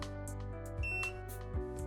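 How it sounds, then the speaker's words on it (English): Faint electronic beeps sound briefly over a steady low motor hum, with a couple of soft mechanical bumps, as an Alta Bliss motorized window shade jogs and beeps. "Press the button and the shade will jog and beep one time."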